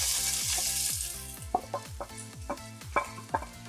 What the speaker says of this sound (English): now I'm going to fry the onions till it becomes light brown in color